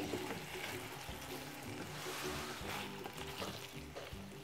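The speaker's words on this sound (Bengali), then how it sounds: "এখন আমি 4টা ডিম ঠিক একই ওয়েতে স্লাইস করে কেটে নিয়েছি সেদ্ধ করে, সেটা এখন এটার মধ্যে মিক্সড করে দেব।" Sliced boiled eggs get stirred into a pan of sizzling egg chilli, giving a soft, steady frying hiss with light scraping stir sounds, fairly quiet and with no talking.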